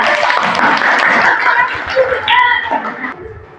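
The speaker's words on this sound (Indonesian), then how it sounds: "Beri tepuk tangan untuk semuanya." Schoolchildren in a classroom clap together, a brief burst of applause mixed with chatter and a little laughter, with a teacher's voice and tones cutting through near the end.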